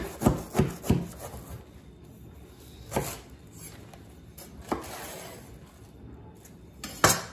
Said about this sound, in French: je vais couper mon chou chinois